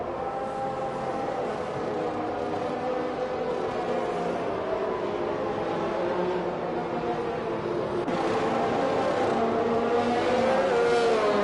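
Race cars roar together in a racing video game round set in Mexico, a dense, steady engine drone with rising and falling pitch sweeps as cars rev and pass, continuous and loud with no talk.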